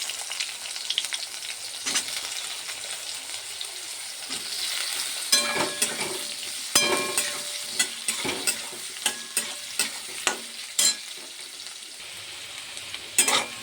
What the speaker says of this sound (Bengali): সোয়াবিন আর আলু একসঙ্গে ভেজে নেবো।